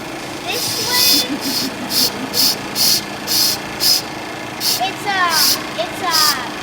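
A stationary steam engine runs close by with a loud, regular chuffing beat, about two puffs a second, and a brief shrill whistle-like squeal near the end; people talk in the background.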